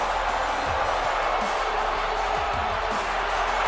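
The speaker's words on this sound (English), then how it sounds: "Sing his theme tune with him. You can hear the crowd doing it." Arena crowd in the WWE 2K18 wrestling game chanting along to Shinsuke Nakamura's entrance theme, a dense, loud, steady roar of many voices filling the whole stretch.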